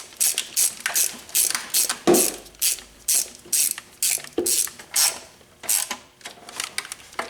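Ratchet wrench snugging down the valve cover bolts on a 1988 Ford Ranger to a light torque, a steady series of crisp, close clicking bursts in short rhythmic strokes with brief pauses between.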